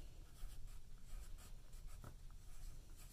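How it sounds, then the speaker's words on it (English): A pen scratches across paper at close range as a name is written, a faint, soft, continuous scribbling with small strokes and pauses. "so I'm going to write"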